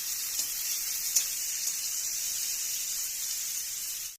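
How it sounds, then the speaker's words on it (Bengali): Onions sizzling in a hot pan for Bengali masoor dal, a steady bright hiss with a couple of faint clicks, no talking. "পেঁয়াজ দিয়ে দিলাম, দিয়ে ভালো করে একটু নেড়ে চেড়ে দেবেন"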